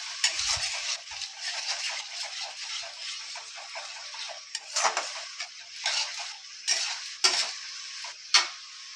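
Egg curry with yogurt being stirred and sautéed in a pan, with a bright hiss of frying and a series of sharp ladle clinks and scrapes against the metal.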